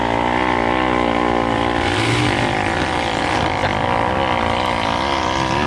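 Trail motorcycles on a dirt-bike trail ride in Miracema, Rio de Janeiro, roar past at close range, a loud continuous engine drone with shifting pitch that never lets up.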